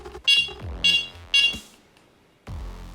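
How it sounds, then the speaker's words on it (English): An electronic carp fishing bite alarm gives three quick, bright, loud beeps, each with a short sweeping tail, followed by a pause and one lower closing tone. "if your bite alarms go off and you're in the bivvy at night time"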